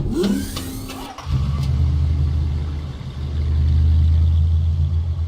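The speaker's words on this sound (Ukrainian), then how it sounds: "Виїхала коричневий машина." A brown toy car starts up and drives out of a brown garage: a brief high sweep and click, then a steady engine rumble that grows louder as it pulls away, with no talking.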